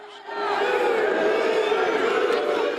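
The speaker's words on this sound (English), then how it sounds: "But inside, the crowd roars." A large indoor crowd at a wrestling meet in a fieldhouse roars loudly and steadily, a sustained wall of cheering and shouts that rises quickly and then holds for several seconds.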